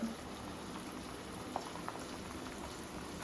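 Faint steady sizzling and bubbling from oil heating in a hot pan for a clam meat curry, with a few small pops, no talking.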